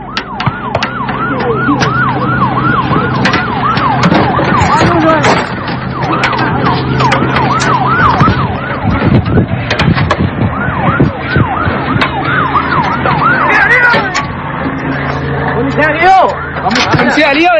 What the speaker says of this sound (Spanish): ¡Ambulancia!